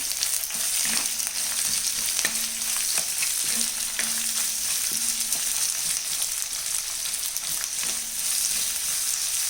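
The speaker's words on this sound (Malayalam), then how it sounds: "ഇനി ഇതിലേക്ക് നമുക്ക് 2 സവാള ചെറുതായിട്ട് അരിഞ്ഞു വെച്ചിരിക്കുന്നത് ഇട്ട് കൊടുക്കാം. ഇളക്കി മിക്സ് ചെയ്യാം." Chopped onions frying and being stirred in a pan for a Chinese potato (koorka) stir-fry, a steady loud sizzle with a spatula scraping and tapping at intervals throughout, no voices.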